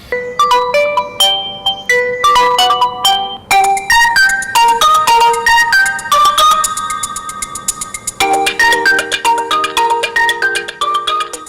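A bright melodic Realme 3 Pro smartphone ringtone plays through its small speaker, a quick series of tonal chimes and notes repeating with short pauses, loud and clear with no voices.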